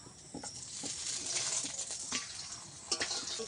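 Paratha dough crackles and patters faintly in hot oil in a heated pan, a soft continuous sizzle with a few sharper pops.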